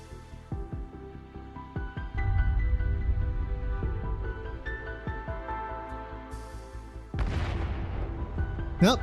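Bomb explosions in the Arknights video game boom repeatedly over a rumbling low bed, several sharp blasts in quick succession, and a bigger crackling burst near the end; loud and close.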